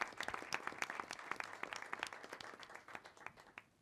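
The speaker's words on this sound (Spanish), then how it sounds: "un aplauso grande a nuestros dos invitadas e" Scattered, fairly faint applause for guests at the close of a panel discussion, with distinct individual claps from a small audience spread across several seconds.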